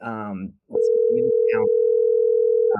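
A telephone ringing tone on an outgoing call to a pre-foreclosure property owner: after a brief stretch of voices, a steady, loud, unbroken tone sounds for about two seconds.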